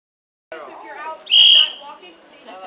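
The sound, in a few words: whistles blowing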